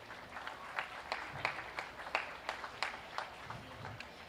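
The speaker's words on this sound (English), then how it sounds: "Let's give these exhibitors in the Charolais division a big round of applause." A small crowd at the Dunn County Fair beef show claps for exhibitors in the Charolais division, sparse and fairly faint, with distinct separate claps in an uneven rhythm.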